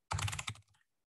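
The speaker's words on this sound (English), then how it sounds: "I know I have the clackiest keyboard." Clacky computer keyboard typing in a quick burst of several close, loud keystrokes lasting under a second, then silence.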